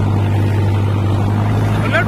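An Arjun Novo 605 tractor engine pulling a rotavator in hard ground, a loud, steady low diesel drone with constant rumble, close by, with a voice talking over it.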